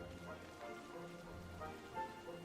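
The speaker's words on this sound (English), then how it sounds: "Welcome back again, rain." Rain falls steadily in the cozy life-sim video game Disney Dreamlight Valley, a faint, soft continuous patter of drops with light musical tones mixed underneath.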